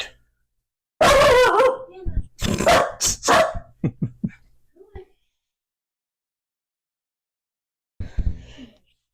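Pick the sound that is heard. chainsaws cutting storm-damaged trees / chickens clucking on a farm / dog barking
dog barking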